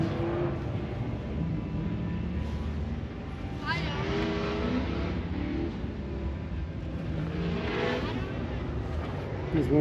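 A Chevrolet Suburban rolling past on a road, a steady engine and tire roar with two brief swells as vehicles go by, heard under ongoing conversation.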